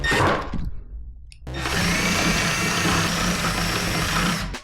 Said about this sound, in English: Measuring carefully, drill the holes for the trucks.